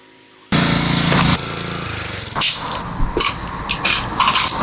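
A wide, gentle water spray rinses soap off a 2006 Toyota Tacoma, starting abruptly as a loud hissing rush, then shifting to uneven spattering and splashing as the stream moves across surfaces.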